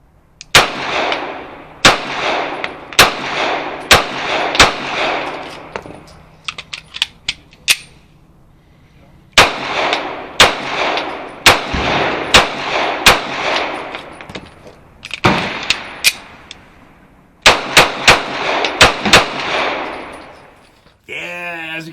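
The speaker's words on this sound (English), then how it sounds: "super fun gun to fire at speed there, doing that triple tap and that double tap" A Beretta 92 FS M9 pistol fired rapidly in live-fire testing, with loud, sharp shots coming in quick double and triple taps separated by short pauses, alone without talk.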